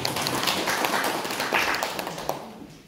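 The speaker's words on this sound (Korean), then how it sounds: "박수 한번 부탁드립니다" An audience at a community lecture on carbon neutrality applauds the introduced speaker, a steady wash of many hands clapping that fades toward the end, with no talk over it.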